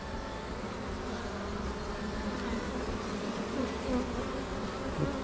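A honeybee colony containing drones hums in a dense, steady buzz at close range, a continuous drone that holds even throughout with no talk.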